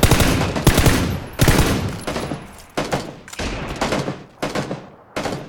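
Loud gunfire in PUBG (PlayerUnknown's Battlegrounds) comes in a rapid fusillade of bursts, dense at the start and then splitting into separate sharp volleys with short gaps between them, close up and with no talking.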